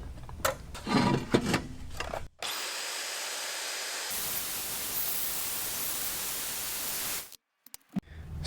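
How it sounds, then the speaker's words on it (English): Milwaukee portable band saw mounted on an off-road table, cutting through a turbo exhaust manifold for an LS engine: a steady, hissing metal-cutting whir for several seconds after brief handling knocks, then it stops abruptly. "I happen to have this swag off-road table and a Milwaukee portasaw. So I'm just going to use this to run this manifold through here"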